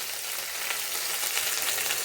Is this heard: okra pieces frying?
yes